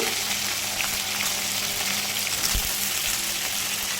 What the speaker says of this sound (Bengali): বাকি কেটে রাখা সমস্ত সবজিগুলোই একবারে দিয়ে দিচ্ছি এবার গ্যাসের ফ্লেমটাকে হাইতে রেখে